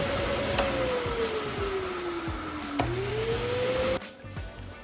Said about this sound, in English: I feel like I'm gonna burn the motor out on my vacuum.